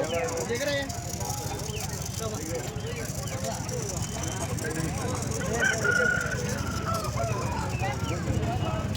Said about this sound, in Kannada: ಹುಂಜಾಗಳು